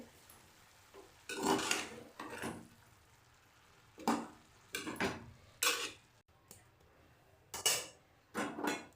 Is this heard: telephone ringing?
no